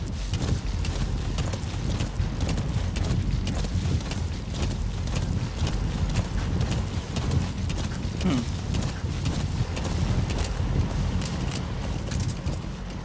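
Rapid, steady hoofbeats of a galloping horse in Metal Gear Solid V, loud and continuous throughout, with a dense rumbling game soundtrack in the background.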